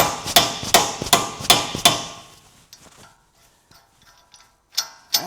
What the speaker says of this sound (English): I'm going to take a mallet